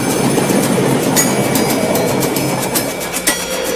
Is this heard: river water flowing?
no